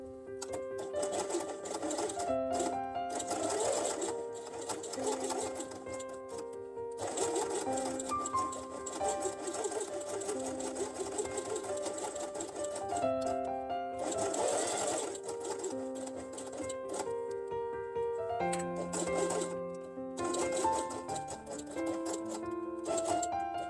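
A sewing machine stitches a dinosaur quiet book with green upper and lower threads, running in steady whirring bursts separated by short pauses, close and alone.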